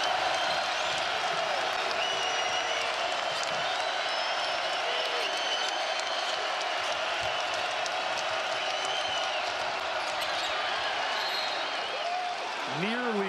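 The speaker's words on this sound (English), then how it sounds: "he's exhorting the crowd to get into it, and they do" A large basketball arena crowd roars steadily during a college game between Iowa State and Houston, a dense, loud sustained wall of cheering and noise that keeps going throughout with no pauses.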